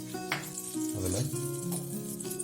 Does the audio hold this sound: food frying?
yes